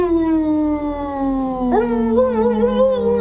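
A voice imitates a creature's long howl, one sustained, wavering call that slides gradually downward, with a brief rising break partway through, loud and alone with no talk.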